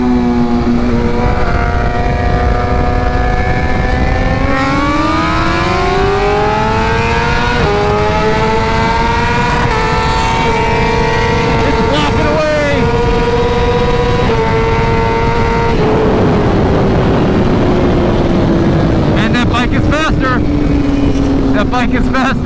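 A BMW HP4 Race or M1000RR superbike pulling hard on a racetrack, its loud, continuous engine note climbing steadily in pitch through the gears before easing off near the end.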